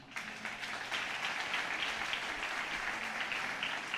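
Church congregation applauding during a Portuguese-language sermon, a steady dense wash of many hands clapping that holds at an even level throughout.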